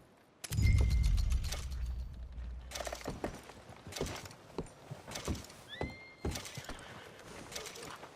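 A horse in the video game Red Dead Redemption II gives a loud, close whinny, followed by scattered hoof clops and mechanical clicks and creaks.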